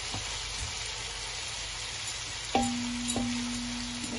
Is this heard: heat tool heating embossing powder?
no